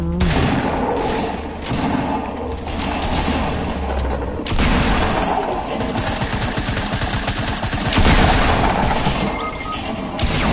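Rapid gunfire from a video game battle, dense overlapping shots forming a steady, loud barrage throughout with heavier bursts near the middle and end; a voice is faintly present underneath.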